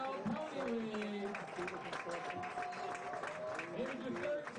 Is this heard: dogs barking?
no